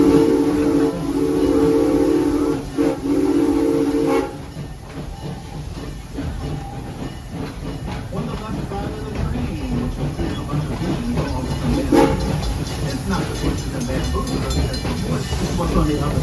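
Serengeti Express train ride at Busch Gardens Tampa, a steady rumble of the moving train with clattering and creaking, loud and continuous, under some indistinct voices and ambient noise.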